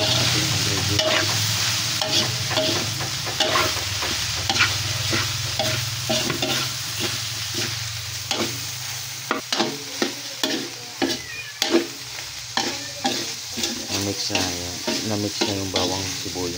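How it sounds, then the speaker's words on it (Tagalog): Pork sisig with garlic and onion is stirred in a hot pan under a constant sizzle, with a spatula scraping and clacking in irregular bursts that become sharper and more frequent toward the end. "Na-mix na yung bawang sibuyas sa ating karne, sa ating pagsisig."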